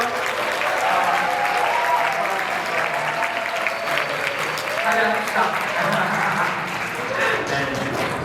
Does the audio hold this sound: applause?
yes